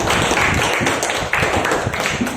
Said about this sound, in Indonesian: semuanya tepuk tangan dong buat Raihan